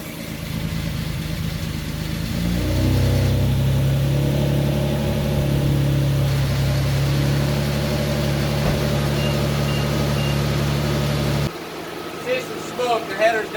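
A Nissan Altima engine with newly fitted headers and a fully connected exhaust idles and runs steadily with a deep, loud drone, with a brief rev near the start, then cuts off toward the end, leaving quieter rustling.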